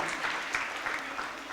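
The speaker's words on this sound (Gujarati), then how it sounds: "એના પછી શત્રુઘ્ન ટીમને 15 માર્ક્સ મળે છે, એમને પણ આપણે તાળીઓથી વધાવીએ." A group of students applauds a quiz team at a school Ramayana quiz for grades 6 to 8, a steady, fairly distant patter of many clapping hands.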